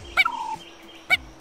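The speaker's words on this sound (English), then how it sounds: "Joe mastered the language of turkeys himself." Wild turkeys gobble in two short, rattling bursts about a second apart, with a softer trailing call after the first, fairly close against a quiet background.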